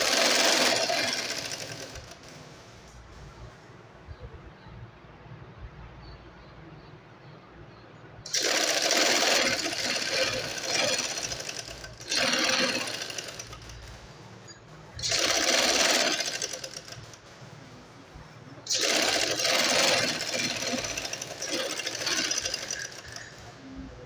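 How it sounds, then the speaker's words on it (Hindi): A sewing machine stitches a half-inch seam on a belted shalwar, running in four loud close bursts of rapid whirring with quiet pauses between them, with no talk over the stitching. "मैं ऊपर की तरफ सिलाई लूँगी। आधे इंच की सिलाई ले लेंगे।"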